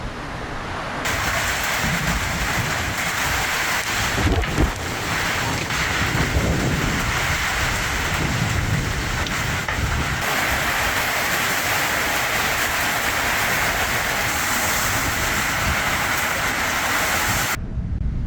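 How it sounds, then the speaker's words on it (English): Heavy rain hisses steadily at Gunnamatta beach, Victoria, Australia, with occasional low rumbles of thunder and some wind buffeting, loud and continuous without talk. "Don't know if you can hear that thunder. The weather's just changed severely."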